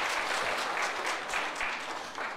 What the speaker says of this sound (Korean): 박수 치려면 제대로 치시고요.